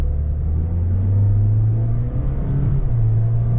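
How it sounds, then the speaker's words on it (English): A 2023 Toyota Corolla SE accelerates gently, its engine a steady close low rumble that rises slightly in pitch as road noise builds. "Not going to go crazy with the accelerator because it's not a fast car, but see, it gets up to speed."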